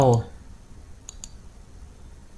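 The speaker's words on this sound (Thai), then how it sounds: "คลิกที่รูปภาพของเรา" A computer mouse clicks twice in quick succession, faint and close, just after a voice trails off at the start.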